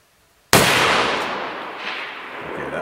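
A single loud rifle shot from a BCM 11.5-inch AR rifle fitted with an RMR and 3x magnifier, fired at a 320-yard target outdoors: a sharp, close crack followed by a long, slowly fading echo.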